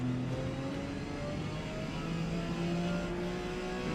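Porsche 956 prototype race car in Forza Motorsport on the Hakone Grand Prix Circuit, engine pulling up through the revs as pitch climbs smoothly, steady and fairly quiet with no other sounds.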